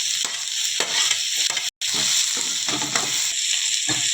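Mixed vegetables, including bottle gourd, okra, capsicum and broad beans, sizzle steadily in a hot pan while being stirred, with scraping strokes of a utensil repeating through the frying and a brief silent break.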